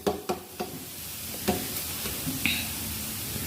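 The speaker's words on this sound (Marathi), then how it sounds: "थालीपीठ दोन्ही साईडनं व्यवस्थित असं थालीपीठ भाजून घ्यायचं" Thalipeeth flatbread roasting in oil on a pan: a steady, fairly loud sizzle with a few scraping taps of a spatula near the start and midway, close up with no talk.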